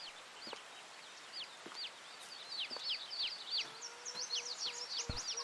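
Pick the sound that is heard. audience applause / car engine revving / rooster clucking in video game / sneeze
rooster clucking in video game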